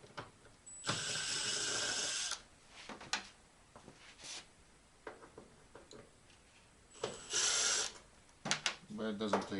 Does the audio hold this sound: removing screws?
yes